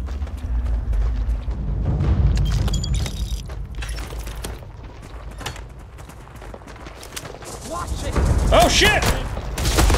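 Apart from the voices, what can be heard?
grenade explosions in the video game Starfield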